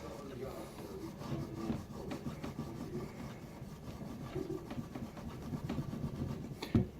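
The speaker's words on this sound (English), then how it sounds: "so we're going to rub it real hard." A hand rubbing hard on a cast bell bronze snare drum shell to polish it, producing faint, continuous scraping strokes in a repeating back-and-forth rhythm, quiet and close.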